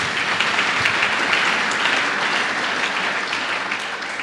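Church congregation applauding loudly and steadily, a dense continuous wash of many hands clapping for the full stretch with no speech over it.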